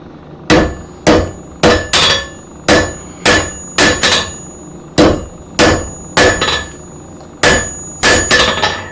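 Hammer striking hot metal on an anvil while forging a fork, digging the hammer corner in deep; about fifteen loud, close, ringing blows land in quick steady bursts with brief pauses between groups.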